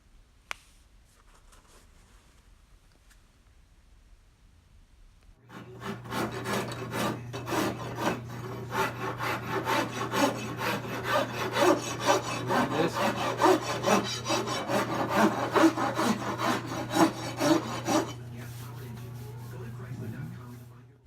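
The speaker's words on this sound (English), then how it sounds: "we smoothed the edges by hand to give it very nice and natural feeling round over" Edges of a walnut and resin desk are hand-sanded into a rounded profile, giving a continuous raspy scraping of steady back-and-forth strokes that starts after a quiet opening and runs about fifteen seconds over a low constant hum.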